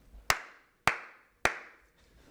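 Three sharp, isolated hand claps, close and evenly spaced, each ringing briefly into a reverberant room with silence between them.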